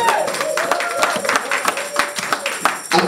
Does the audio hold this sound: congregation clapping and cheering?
yes